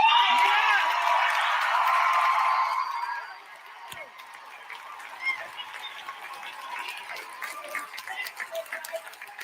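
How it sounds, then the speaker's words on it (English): A rally crowd for Kamala Harris claps and cheers loudly for about three seconds, then fades to scattered, quieter crowd noise. "So the crowd clapped and cheered"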